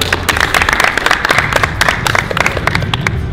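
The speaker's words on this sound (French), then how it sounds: "Mister Aliou, on va l'applaudir" A group applauds a football player at a recruitment event, loud dense clapping with sharp individual claps standing out, sustained at close range.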